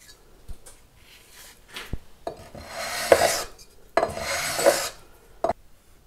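Abrasive paper at 320 grit rubs across the metal frets of an ES 335 guitar, a few close raspy back-and-forth strokes in bursts with pauses, alone and fairly quiet.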